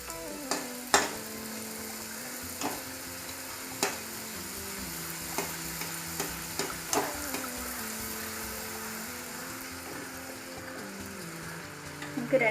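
Egg pathiri, a Kerala egg-stuffed pastry, fries in hot oil with a steady close sizzle, punctuated by scattered sharp pops and stirring clicks; no one speaks.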